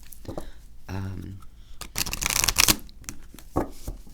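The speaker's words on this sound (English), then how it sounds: "So let's give these a little shuffle just to see." A tarot card deck is riffled and bridged, giving quick papery flutters and snaps that come in bursts close to the microphone, while a person talks in between.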